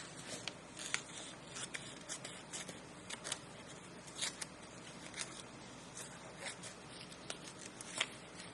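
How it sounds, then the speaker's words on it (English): Scissors snipping through magazine pages, cutting out paper images for a robot collage, heard as soft, close, irregular clicks and rustles at low volume with no talking. "And then you can go up with your scissors and finish cutting it out."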